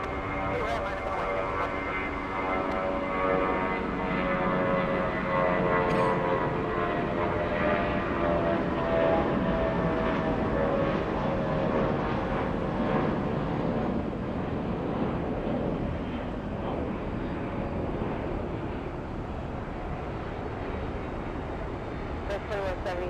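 An airliner taking off from runway 8 right at Atlanta's Hartsfield-Jackson International Airport makes a steady, sustained roar of jet engines, with air traffic radio voices talking over it.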